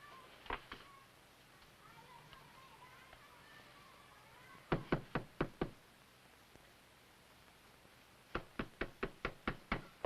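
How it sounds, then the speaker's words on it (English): Knocking on a door comes in three bursts, a single rap, then a quick series of five, then a louder series of about seven, sharp and close against a quiet room. "Oh, you want to knock a bit harder than that?"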